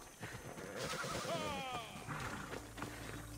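A horse whinnies in Assassin's Creed Odyssey, one rising and falling neigh near the middle over a busy game background with faint hoof and combat noise.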